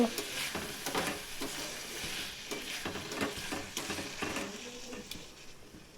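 A tomato and pea vegetable curry sizzles in a pan while a spoon stirs and scrapes it, with irregular clinks and soft frying hiss close by.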